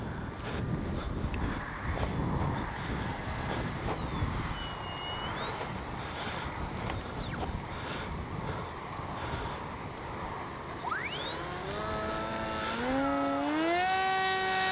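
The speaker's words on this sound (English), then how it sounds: "because you got a rear mounted motor like that, they're going to be noisy" The rear-mounted motor of a Kavan Beta 1400mm RC trainer airplane whines overhead through wind noise, its pitch sliding up and down as it passes, then rising sharply and loudly near the end.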